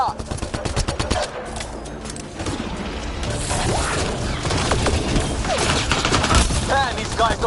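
Sustained gunfire from a firefight in the video game Mass Effect, a dense continuous barrage of rapid shots and mechanical clatter running the whole time, with voices partly mixed in under the shooting.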